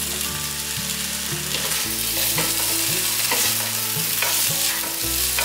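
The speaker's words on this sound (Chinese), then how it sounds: "大约略炒一下，把天贝放进来" Tempeh stir-frying in a wok with a little water, a loud dense sizzle with brisk scraping and tossing over a low humming drone.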